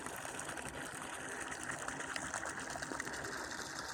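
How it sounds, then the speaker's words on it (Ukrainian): A pump pushes water into a large film-lined pond dug about 10 by 7 metres and over a metre deep, giving a steady, continuous gushing rush that holds at a constant level throughout. "Закачую воду."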